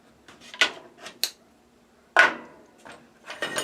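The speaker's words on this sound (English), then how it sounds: "take the clamps off" Clamps come off a Kydex blade guard for a drawknife: a few sharp, close wooden knocks and clicks spaced irregularly, with quiet gaps between them and no talking.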